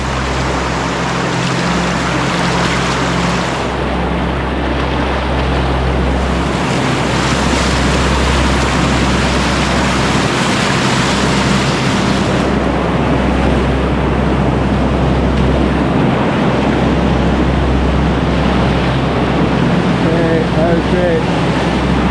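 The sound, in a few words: paddling a boat through river rapids and waves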